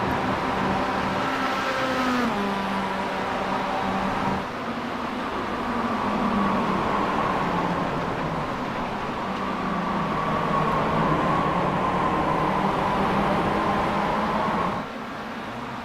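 Mazda MX-5 Cup race cars lapping Daytona in the iRacing simulator, a steady, loud engine drone with shifting pitch as the cars accelerate and lift, several engines overlapping throughout with no talking.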